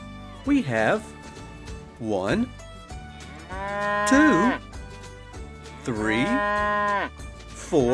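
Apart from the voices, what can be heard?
cows mooing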